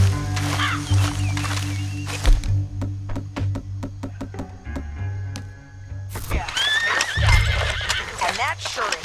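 In Red Dead Redemption 2, a horse whinnies loudly amid repeated clopping hooves, with someone talking over it, game music humming beneath, and another neigh near the end.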